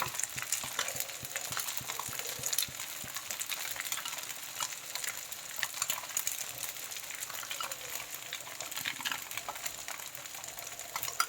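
Pan-fried chicken noodles in a cornflour slurry, stirred and scraped from the bottom of the pan, with a steady close sizzle and frequent scraping strokes throughout.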